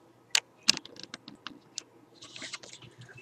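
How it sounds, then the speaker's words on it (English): Keys on a computer keyboard click as someone presses them, with two sharp close taps followed by a quick run of lighter clicks. "Press shift on your keyboard while you press the restore button."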